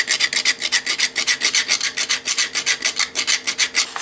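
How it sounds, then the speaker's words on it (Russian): A hand file rasps against copper to make powder, sounding about twenty rhythmic back-and-forth strokes that are close, steady and scratchy, with no voices. "Напильником добываю также еще и медный порошок."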